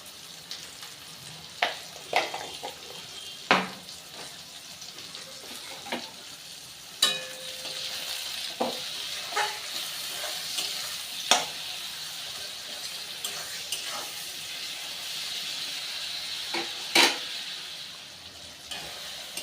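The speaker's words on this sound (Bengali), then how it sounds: "টমেটো আর পেঁয়াজ খুব ভালো করে ভাজা হয়ে গেছে" Tomatoes and onions frying with a continuous sizzle, broken by scattered utensil scrapes and taps as the mixture is stirred.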